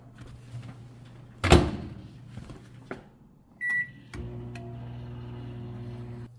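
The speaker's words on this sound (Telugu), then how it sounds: "ఇప్పుడు మనము మైక్రోవేవ్లో పెట్టి ఒక థర్టీ సెకండ్స్ హీట్ చేసుకుందాము" A microwave oven heating taco filling for thirty seconds: a loud door clunk, a short beep, another latch click, then the steady low hum of the running oven.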